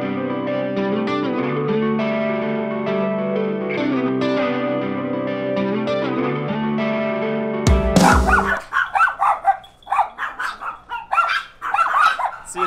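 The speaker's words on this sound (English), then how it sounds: "Seems like there's a bit of a kennel here" Dogs at a kennel bark in short, loud bursts after a stretch of effects-heavy music, the barking coming in irregular clusters close by.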